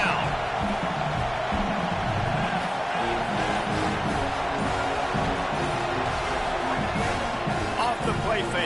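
Home crowd at a football game roaring on third down as the defense tries to get off the field, a dense, continuous wall of cheering heard at a distance, with a commentator's voice over it.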